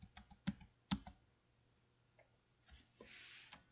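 Keystrokes on a computer keyboard during a beginner computer class, a few sharp separate clicks near the start, including a firm Enter press, then quiet with faint later taps.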